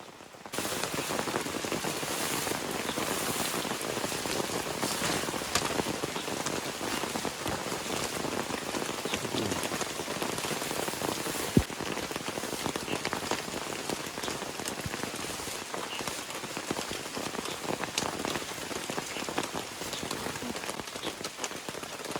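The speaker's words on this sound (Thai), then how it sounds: "ฝนมามันหนักกว่าเดิมอีกทุกคน" Heavy rain pouring steadily on a forest campsite, a dense, even hiss of drops striking surfaces close by, continuous throughout with one brief sharp knock partway.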